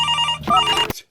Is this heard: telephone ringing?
yes